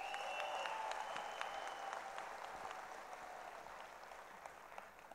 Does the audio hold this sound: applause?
yes